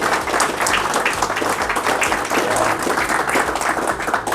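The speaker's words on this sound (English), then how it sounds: "how about a round of applause for Mr. Torres?" An audience applauds steadily at a real estate investor meetup, the clapping dense and sustained at a constant level throughout with no voices standing out.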